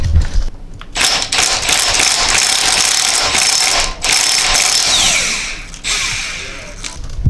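A ratchet clicks steadily and fast while bolts come off a Honda Civic being rebuilt for the Gambler 500; the ratcheting is close and loud, running almost continuously with a couple of short pauses.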